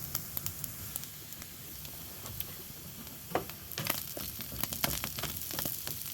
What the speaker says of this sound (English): You can see the potatoes are browning up quite nicely, getting a nice little bit of colour.